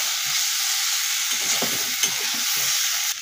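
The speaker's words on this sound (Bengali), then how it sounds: "আলু দিয়ে আর একটু নাড়াচাড়া করব।" Fried potato pieces are stir-fried in a spiced masala in a kadai, giving a steady close sizzle with repeated stirring scrapes throughout and no voices.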